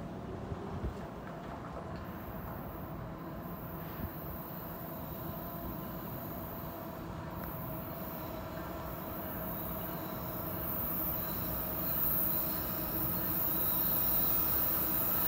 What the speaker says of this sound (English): We have a CSX train.